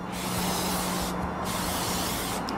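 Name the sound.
Plasti Dip spray can test spraying onto a box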